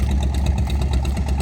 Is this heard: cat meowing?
no